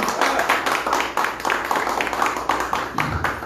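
A small audience claps at a marathon press conference, welcoming a speaker with brisk, uneven applause that carries on for a few seconds at close range.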